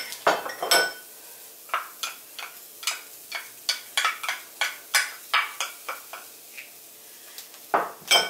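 A utensil repeatedly scrapes and clinks against a pan while onion and garlic are stirred, a quick irregular series of close metallic taps and scrapes, fairly quiet, with no voices.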